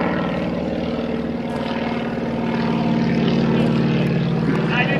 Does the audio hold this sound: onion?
no